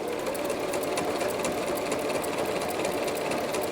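A home sewing machine stitches t-shirt fabric in a continuous, steady mechanical whir with a fast needle rhythm, close and uninterrupted.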